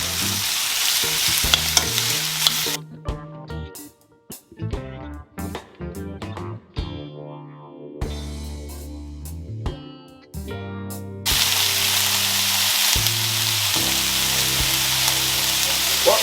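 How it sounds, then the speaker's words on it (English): Escovitch sauce vegetables sautéing in a pan, a steady broadband sizzle at the start and end with a stretch of music-like tonal sound in the middle, no talk. "I'm gonna saute this for maybe 2 or 3 minutes"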